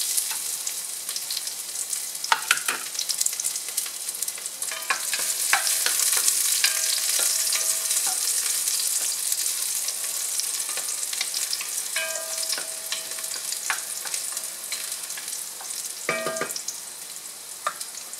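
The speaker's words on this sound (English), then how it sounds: "I'm going to add about a tablespoon of olive oil, and we are going to saute our ingredients" Garlic sizzles steadily in olive oil in a pan, a close, continuous crackling fry broken by a few clinks and scrapes from stirring, with no voices.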